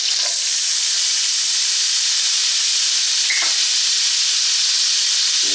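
Diced onion sizzling loudly in a hot skillet, a steady, close hiss of frying that runs unbroken, with a brief clink of a utensil partway through.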